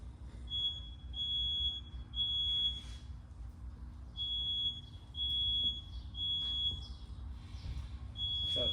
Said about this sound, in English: So 3 slower beeps versus the 4 fast beeps.